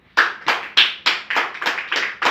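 A church congregation claps for the Lord in a steady rhythm, about eight crisp group claps with brief gaps, close and clear, with no talking.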